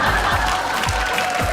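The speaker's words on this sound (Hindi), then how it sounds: "जोरदार तालियों से तालियां बजाते रहिए 2-4 घंटा तक" An audience claps in steady, dense applause that fills the whole moment, with a faint crowd murmur underneath.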